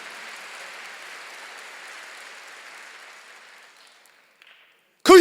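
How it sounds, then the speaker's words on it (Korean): Korean church congregation claps during a sermon, a soft, diffuse patter of many hands that fades away over several seconds before a loud sound cuts in at the very end. "깨달은 사람만 박수 쳐보세요."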